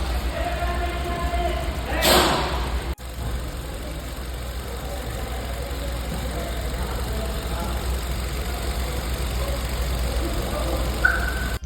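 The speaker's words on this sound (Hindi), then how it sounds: "अब इंजन को हीट किया जा रहा है थोड़ा सा, ताकि इसके जो टेम्परेचर है पहुंचे और इसका फैन ऑन हो।" Steady, even idle of a Maruti Brezza car engine warming up after an exhaust pipe replacement, a low continuous hum with a brief clatter near the start.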